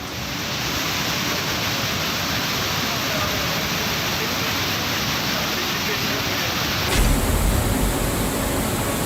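A torrent of water pours off a hillside into a temple courtyard at Kedareshwar in Ratlam, a loud, steady rushing roar that fills the whole stretch without a break and shifts in tone near the end.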